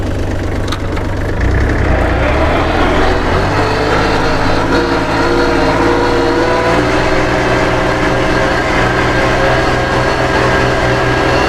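A used Kubota L3408 tractor's diesel engine runs in second gear high at a dealer's yard in Udon Thani, giving a loud, steady, continuous drone with a throbbing low rumble and no voices.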